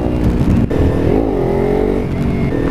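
A Kawasaki Ninja motorcycle revs loudly up close, the engine note rising and dipping briefly as the clutch is dropped for a wheelie attempt.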